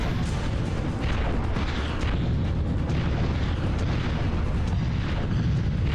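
Repeated grenade and mine blasts in the PlayStation game Army Men: Green Rogue, a dense, continuous stream of booming explosions rolling over one another at steady loudness for the whole stretch.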